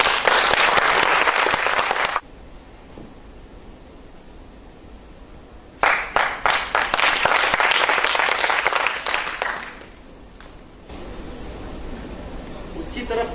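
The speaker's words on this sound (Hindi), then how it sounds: "जोरदार तालियां इनके लिए बने।" Seminar audience applauds loudly in two dense bursts, the first lasting about two seconds and the second running several seconds longer, separated by a stretch of quieter room murmur and followed by faint background noise.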